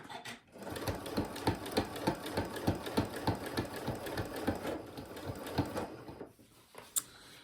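Sewing machine stitching down quilt binding, a close rhythmic chatter of rapid needle strokes running for several seconds before slowing and stopping, then a sharp click.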